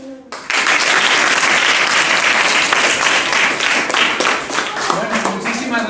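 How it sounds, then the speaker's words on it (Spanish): Loud welcoming applause from a library audience greeting author David Fernández Sifres, bursting in abruptly after a brief pause and continuing as a dense, sustained clapping roar that eases slightly near the end. "te damos la bienvenida con un aplauso sonoro"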